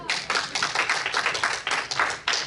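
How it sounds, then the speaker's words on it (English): A smattering of audience applause at a magic show: a handful of close, uneven hand claps patter on for a few seconds without cheering or voices. "It's a smattering of applause."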